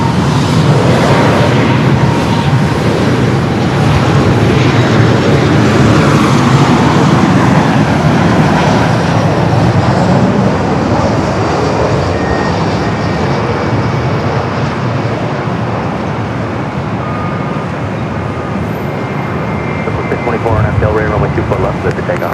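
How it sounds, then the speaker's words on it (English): A Southwest airliner roars through a go-around at LAX. The jet engine noise is loud and continuous broadband thunder, heard from a distance as it holds strong and then slowly eases off. "Got the Southwest. This is the go around."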